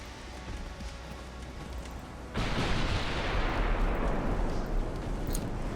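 Naval guns fire a full broadside in the warship game Ultimate Admiral: Dreadnoughts during a close-range engagement, a sudden loud roaring blast that swells into sustained rumbling gunfire for several seconds.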